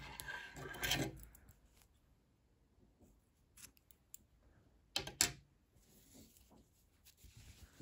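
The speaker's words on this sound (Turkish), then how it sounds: "İpliği burada kesiyorum" Close scissors snipping through crochet yarn on a ruffled baby romper, a couple of crisp cuts separated by quiet handling noises and faint rustles.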